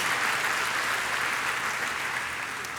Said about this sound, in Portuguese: Dá uma salva de palmas se você está recebendo isso.